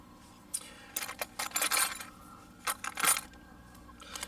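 Small metal folding-knife spare parts for a Benchmade Griptilian rattle and clink inside a little box, bursts of bright jangling shaken in short bouts with quiet pauses between.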